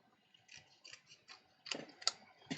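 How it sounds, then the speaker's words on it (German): Scissors snipping around a paper craft piece for a handmade gift-card wallet, a run of small close crisp cuts coming in quick irregular bursts, growing a little louder toward the end. "Also ich nehme jetzt hier ausnahmsweise mal die Schere, setze einfach meinen mir gedachten Rand ringsrum"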